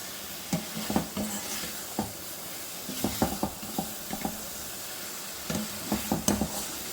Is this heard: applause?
no